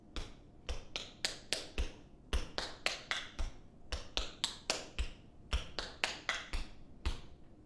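Crisp tap shoe strikes rattle in quick repeated groups of paddle and roll steps with heel drops, steady and rhythmic, close and fairly quiet, with no talking.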